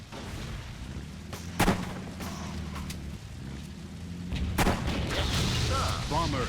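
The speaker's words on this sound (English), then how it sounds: "Not sure where that artillery came from." Artillery fire in the Blitzkrieg 3 war strategy video game: two sharp, loud booms, one near the start and one later, over a steady low battlefield rumble with scattered quieter shots.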